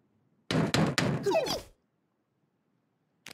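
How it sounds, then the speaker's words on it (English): Knocking on a door in the children's animated show Twirlywoos: three solid, close knocks in quick succession, followed by a short squeaky flourish, then silence. "It's somebody at the door."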